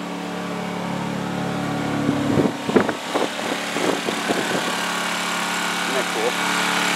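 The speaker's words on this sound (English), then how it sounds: "I'm really liking this Honda generator" A Honda EU2000i inverter generator runs steadily outdoors beside a pond, a constant engine hum with a steady tonal drone throughout, while a person talks over it in the middle stretch.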